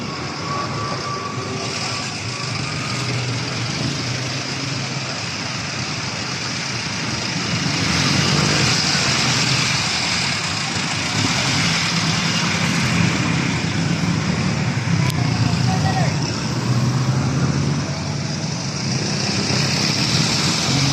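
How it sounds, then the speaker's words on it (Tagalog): Heavy road traffic rolls past near a bridge, a continuous broadband rumble of many vehicles that swells louder about a third of the way in and stays dense, with no voices. "Grabe ang traffic ngayon o. Traffic na traffic."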